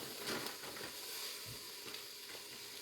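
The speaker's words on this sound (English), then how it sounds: "let that meat start cooking with them onions" Ground meat and onions sizzle steadily in a hot pan, a constant crackling fry with faint stirring scrapes, close but fairly quiet.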